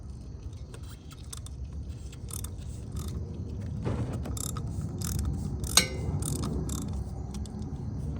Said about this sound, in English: As I leave the drain pan open, I'm going to take the oil filter off.